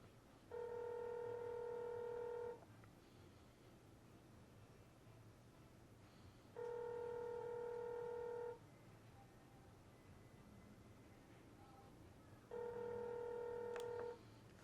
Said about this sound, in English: You can hear it ringing. We'll hang up when they pick up.